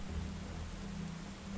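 Steady rain hisses as a continuous wash of noise in the video game Deep Rock Galactic, with a low hum underneath, faint and unchanging throughout.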